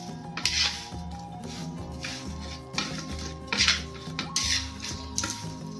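Peanuts, green chillies and curry leaves stirred in a pan for crispy potato chivda, a spoon scraping and clattering against the metal in irregular bursts over a low background hum.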